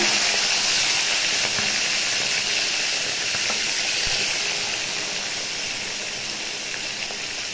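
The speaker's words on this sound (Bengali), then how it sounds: "মাছ ভেজে দিচ্ছি বন্ধুরা" Bata fish frying in hot oil, a loud continuous close hiss and sizzle with occasional sharp pops, easing slightly in loudness toward the end.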